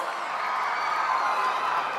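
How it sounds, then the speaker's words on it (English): An audience applauds at a Quantum Valley foundation-stone ceremony marking a quantum cloud services launch; the clapping is a steady, distant, fairly soft wash that blends into an even roar with no separate claps. "A huge round of applause."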